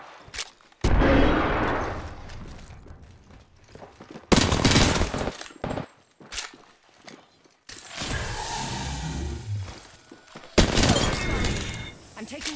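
Video game gunfire from an Apex Legends-style match, with loud bursts and volleys of shots cutting in and out between quieter stretches, mixed with other game effects and some talk.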